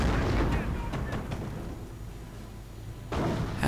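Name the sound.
artillery barrage in a strategy video game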